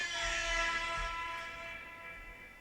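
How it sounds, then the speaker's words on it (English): A loud, sustained air horn blast with a rich, buzzy tone holds steady for a couple of seconds before slowly fading. "Air horn for the one time"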